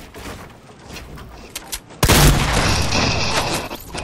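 Fortnite gunfire: scattered shots crack at a distance at first, then a sudden heavy volley bursts in close and loud, followed by sustained rapid firing.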